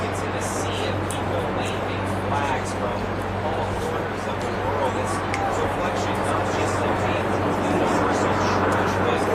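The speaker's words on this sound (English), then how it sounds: "You can hear the helicopters flying overhead" Helicopters circling above the packed crowds at St. Peter's Square in Vatican City during the papal conclave, a steady low droning hum running beneath constant crowd babble for the whole stretch.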